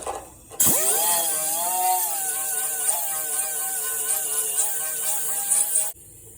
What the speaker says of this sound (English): So I'll drill that out and keep going.